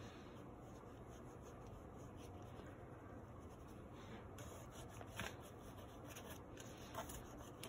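Conte crayon swiped across paper in steady, soft scratchy strokes, a continuous quiet rubbing that holds at a low level, with a few slightly sharper swipes standing out.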